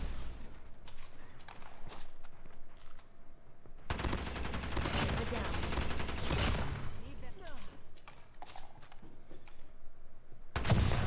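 Gunfire in COD Mobile, a dense burst of automatic shots for a few seconds mid-clip amid quieter game sounds and footsteps, with a player's voice speaking at times.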